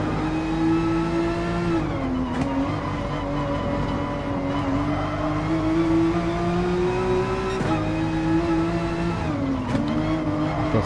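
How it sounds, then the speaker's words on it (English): The Volkswagen GTI Vision Gran Turismo concept race car in Gran Turismo Sport, on the Nürburgring, holds a loud, sustained engine drone, with pitch dipping and climbing through gear changes over about ten seconds. "is the Volkswagen GTI concept car, which are called Vision Gran Turismo cars"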